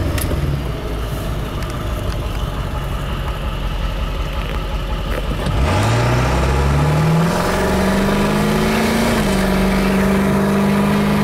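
A Ford 7.3 Powerstroke diesel truck with a tuning chip idles with a low rumble, then accelerates hard from a stop, the engine note climbing steadily and holding loud and close as it pulls through the run.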